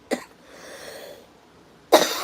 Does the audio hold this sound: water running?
no